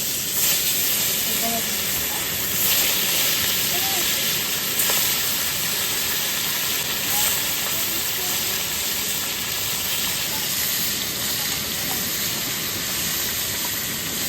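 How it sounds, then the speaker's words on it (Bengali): Bata fish frying in hot oil give a continuous loud sizzle and hiss that runs unbroken for the whole stretch, with faint pops and crackles scattered through it. "বাটা মাছগুলো ভেজে দিচ্ছি"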